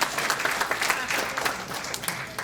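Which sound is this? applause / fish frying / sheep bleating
applause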